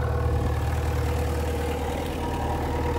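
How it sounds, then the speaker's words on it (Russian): A Kawasaki ZZ-R400 motorcycle engine idles close by, a low even rumble with a regular pulsing beat and no change in pace. "Сейчас послушаем немножко двигатель, выхлоп и сцепление."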